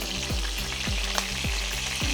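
Tangra fish frying in hot oil for a Bengali spicy curry, a steady close sizzle with repeated sharp spluttering pops and crackles, heard alone without talk.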